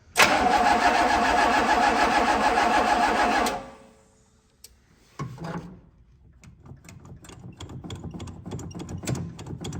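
A 1965 Pontiac Catalina engine with a dry carburetor cranks loudly and steadily for a few seconds on a booster pack, then stops; afterward faint clicks and low rustling follow.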